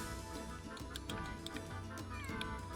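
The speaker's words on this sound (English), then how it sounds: "It's a kitty!" A cat meows in the Suikoden V video game, several short mews over a steady musical game background, moderately close and fairly faint overall.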